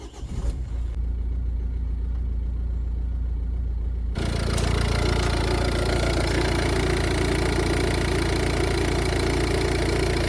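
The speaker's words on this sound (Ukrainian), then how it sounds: "Двигун працює рівненько, трішки кришка вібрує." A car engine runs at a steady idle, a constant low rumble that grows fuller and louder partway through, with a faint rattle from a vibrating engine cover riding on top.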